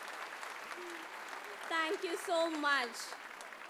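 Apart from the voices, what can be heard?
audience applause for junior and senior KG students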